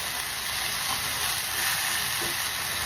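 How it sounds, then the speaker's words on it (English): Pot roast beef searing in a hot pan, a steady, continuous hiss and sizzle held close and even for a few seconds with no talk. "we'll just leave that to sear until about 3 to 4 minutes at the most"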